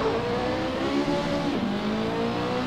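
Engine noise from a car in the racing sim Assetto Corsa, drifting on a circuit: a steady, loud engine drone with rising and falling revs and a pitch dip midway, continuous throughout with no talk.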